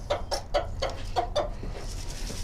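Farm hens cluck close by in a quick series of short clucks, then quieten, over a low background hum.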